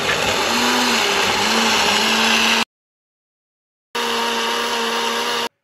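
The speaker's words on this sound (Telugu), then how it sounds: "ఇప్పుడు మనం పాలు అలాగే యాపిల్ని మిక్సీ పెడతాం." A mixer grinder blends milk and apple with a loud, steady whir that runs for over two seconds, falls silent, then starts again for a second burst of similar length.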